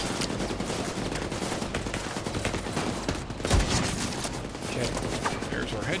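Rapid gunfire in a shooter video game with a sniper build, dense repeated shots layered over busy game noise and a single heavier boom midway, with a player talking over it.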